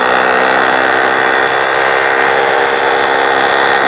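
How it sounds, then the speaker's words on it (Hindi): A Hilti electric demolition hammer breaking stone, a loud continuous rapid hammering drone with steady mechanical buzz and no pauses throughout. "बहुत ही पावरफुल हथौड़े की तरह मारता है"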